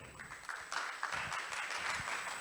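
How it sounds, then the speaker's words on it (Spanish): Applause from a conference audience greeting a doctor speaking on nutrition and depression at a congress in Colombia, a steady soft wash of many hands clapping heard from a distance. "un fuerte aplauso para el doctor"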